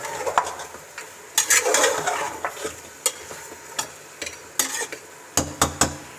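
Shinwari beef karahi cooks in a pan, a soft sizzle under repeated sharp clanks and scrapes as a utensil stirs the meat against the metal, close by with no speech.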